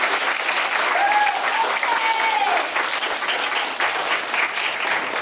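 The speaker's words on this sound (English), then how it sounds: "Can I get another big round of applause for our speakers who did a great job presenting to us today?" A big round of applause at a school Flag Day ceremony for pre-kindergarten and kindergarten classes, steady loud clapping from a crowd throughout with faint voices and a brief whistle-like tone mixed in.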